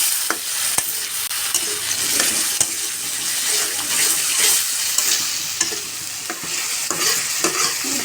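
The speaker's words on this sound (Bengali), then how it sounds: "তো ডালটা একটু কষানো হোক।" Red lentil dal is stirred and fried with spices in a pan, a steady sizzle with repeated scraping and clinking of the spoon against the pot, close and alone without talk.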